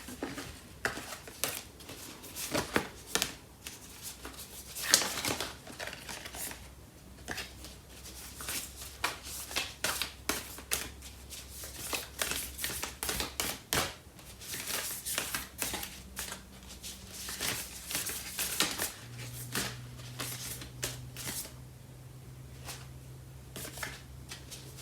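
Tarot cards being shuffled by hand before a single card is pulled, a long run of soft, close riffling and flicking bursts with brief pauses between them.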